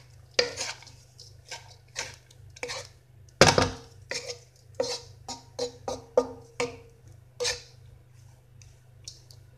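A metal spoon stirs garlic rice made with basmati in a pan, giving a series of sharp scraping and clinking strikes against the pan in an uneven rhythm, with one loud clatter near the middle over a low steady hum.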